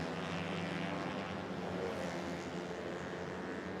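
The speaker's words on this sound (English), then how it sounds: "There's now just a constant drone of engines past our commentary box." Kapcai motorcycle engines at a racing endurance event drone steadily past a commentary box in a continuous blended roar, moderately loud, with no speech.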